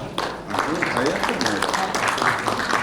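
Applause from an audience at a breakfast seminar as guests are introduced, a steady sustained clapping running throughout beneath someone speaking over it.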